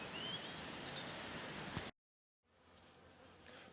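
Honeybees buzzing around a flowering willow in Snowdonia, a faint, steady outdoor hum of many insects that briefly cuts out to silence before returning quieter.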